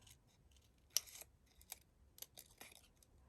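Scissors snipping crepe paper at a craft desk while shaping a carnation flower, with several short crisp cuts scattered irregularly, fairly faint and close, with no talking.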